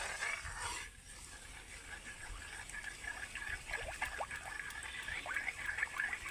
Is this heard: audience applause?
no